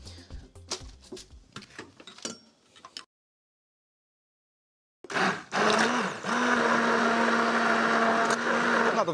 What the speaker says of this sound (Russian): Можно применять блендер.